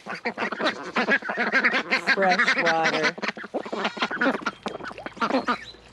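Ducks and geese quack and honk loudly and repeatedly at close range while being fed chicken layer feed mixed with oats on a small farm, with someone speaking briefly over the calls.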